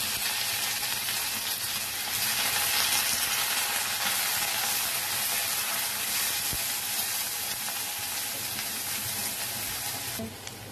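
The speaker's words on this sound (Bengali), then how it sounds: "পেঁয়াজটা ভাজা হয়ে গেছে" Steady, dense sizzling of onions frying in hot mustard oil, continuous and close, with no voices throughout.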